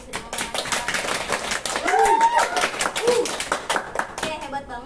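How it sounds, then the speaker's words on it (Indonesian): A group of schoolchildren in a classroom claps for classmates, a brisk run of overlapping hand claps heard close, with children's voices chattering over the clapping. "Tepuk tangan dulu ya untuk teman-teman yang tadi sudah ngomong."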